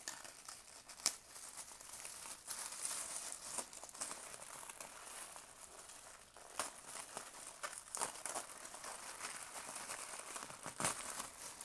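A small paper package holding a Daphné's Diary issue is opened by hand. Soft crinkling and occasional tearing go on continuously with sharp rustles here and there, faint and close, with no talking.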